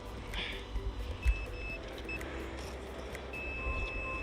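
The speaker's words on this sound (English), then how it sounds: "Put the detector on there. There we go. Pinpointer." A metal detector pinpointer gives a few faint, thin electronic beeps in an outdoor dig, the last tone held steady toward the end over low background rumble.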